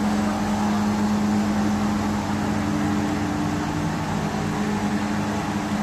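An olive oil press machine pressing olives in a small factory runs with a loud, constant mechanical hum and steady tonal drone, unchanging from start to finish.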